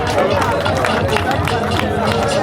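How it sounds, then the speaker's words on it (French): Audience applause for a team at the tenth edition of a Yakuza FC versus Dream Team football event: loud, dense and continuous clapping mixed with crowd noise, filling the whole stretch without a break. "Est-ce qu'on peut applaudir encore pour cette équipe?"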